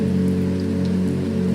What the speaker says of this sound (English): the rain and the thunder is so nice